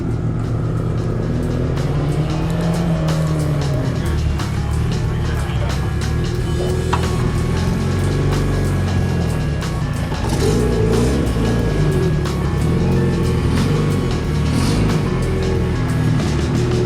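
A car drifts at Etown with engine roaring and rising and falling through revs, tires working under a steady loud rumble, with people talking over it throughout.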